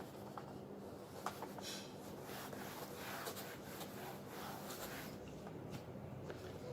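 Soft, irregular rubbing and scraping strokes as writing is wiped off a classroom board, faint and close, in quick repeated swipes with brief taps.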